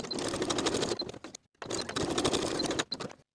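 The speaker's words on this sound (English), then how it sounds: "Sew with a 3/8 inch seam allowance and press the seams open." Sewing machine stitching the shoulder seams of a boat neck sweater, a fast close mechanical whir in two runs with a short pause between, no talk.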